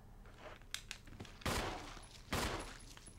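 Gunfire in the Resident Evil REmake survival-horror game: a few sharp shots early on, then two loud, broad blasts about a second apart, ringing briefly over a low ambient drone.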